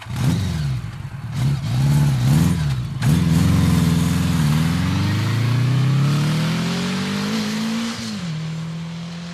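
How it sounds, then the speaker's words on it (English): A motorbike speeds past on a road, its engine note climbing and falling through quick revs before settling into one long rising whine that fades slightly at the end, loud and close with no talk. "Rav was sitting on the back of a motorbike speeding to the local TV"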